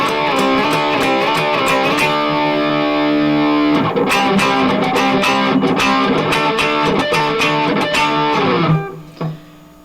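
Electric guitar played through a Line 6 Pocket POD on a crunch preset, loud distorted chords and riffs strummed steadily for several seconds before ringing out and stopping.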